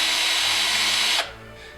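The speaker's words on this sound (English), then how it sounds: "And a power drill." A power drill in a prop-making shop whirs at a loud, steady high-pitched whine for over a second, then cuts off abruptly and leaves a faint hum behind.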